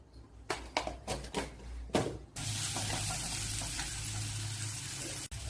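Mustard seeds are dropped into hot ghee after a few light clinks, then break into a steady, close sizzle that continues to the end.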